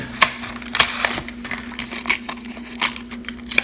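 A Hot Wheels blister package being torn open, with a run of sharp crackling plastic and cardboard snaps and rips over a steady low hum, close and fairly loud.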